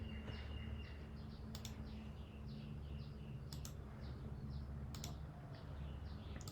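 Keys clack on a computer keyboard in short bursts of quick taps, separated by pauses, over a steady low background hum, faint and close, with no voices.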